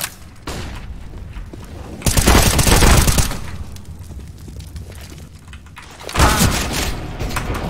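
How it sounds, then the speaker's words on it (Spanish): Loud bursts of gunfire and explosions erupt in a CS:GO match as a flashbang grenade goes off, with two heavy blasts standing out over ongoing firing. "Flashbang out."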